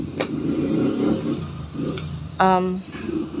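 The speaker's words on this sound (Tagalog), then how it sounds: "Maingay po talaga yung mga tricycle." Motorized tricycles rumble past on a street, a low, uneven engine drone that rises and falls, with a sudden loud rev or horn-like blare midway, behind someone speaking.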